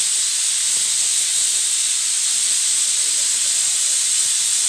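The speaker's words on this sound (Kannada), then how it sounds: "ಇವಾಗ ಒಂದು 5 ವಿಸಿಲ್ ಬರೋ ತನಕ ಇದನ್ನು ಬೇಯೋದಕ್ಕೆ ಬಿಡೋಣ" A pressure cooker cooking sambar vents steam in a continuous loud, bright hiss that holds steady for several seconds with no break.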